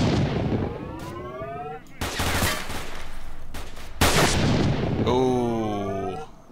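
Gunfire from S.T.A.L.K.E.R. Shadow of Chernobyl: several loud bursts of shots and blasts come close together, with whining swept tones before and after, and no talk over them.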